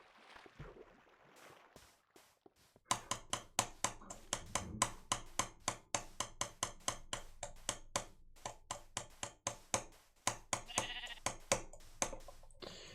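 Sheep bleat in a video game over a dense run of rapid clicking and tapping that continues steadily for several seconds, fairly quiet overall.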